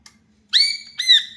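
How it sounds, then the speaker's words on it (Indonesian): Magpie robins fighting somewhere below let out two bright, sharp whistled notes, one straight after the other, clear and alone in an otherwise quiet moment. "Itu murai itu pada bertarung teman-teman di bawah itu"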